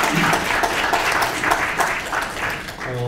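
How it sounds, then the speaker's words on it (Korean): Audience applause at a policy forum on a basic law for disabled people: a dense, steady wash of many hands clapping indoors that continues for the whole stretch without letting up. "박수 좀 부탁드릴게요"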